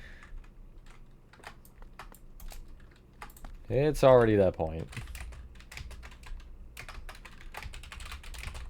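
Typing on a computer keyboard: rapid, light key clicks patter throughout at close range, briefly interrupted by a short spoken phrase before the tapping continues.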